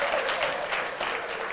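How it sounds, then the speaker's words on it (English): A dense, steady wash of audience applause greets spelling bee finalists, loud and continuous through the short stretch. "give these young people a round of applause"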